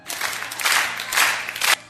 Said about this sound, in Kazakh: шапалақ ұрамыз